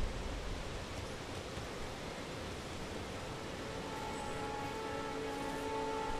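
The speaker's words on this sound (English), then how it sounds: "it's getting windy." Steady broadband wind roars across Stormveil Castle in Elden Ring, a constant airy rush without gusts or pauses, with faint tonal hums entering near the end and no talking.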